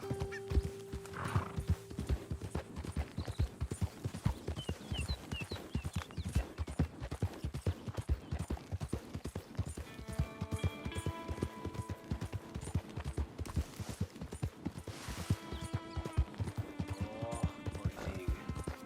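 Rapid, rhythmic hoofbeats of a galloping horse in the video game Red Dead Redemption 2 run throughout, with an occasional whinny and some tonal music-like sounds in the background.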